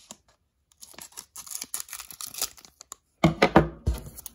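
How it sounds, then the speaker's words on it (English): Scissors cut open a foil Pokémon card pack, a close series of crinkling snips and rustles followed by a louder burst of tearing and crumpling foil. "if we gotta use the scissors, just kind of how I roll"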